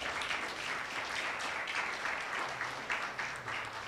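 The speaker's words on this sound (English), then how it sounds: "All right, let's clap for Dr." An audience at an interventional cardiology congress applauds a speaker, a steady, dense wash of clapping that holds for several seconds with no break and no speech.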